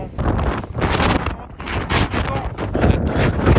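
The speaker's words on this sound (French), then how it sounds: "on est en plein vent" Strong wind buffets the microphone high on a mountain on Madeira, coming in loud, uneven gusts that rise and fall throughout.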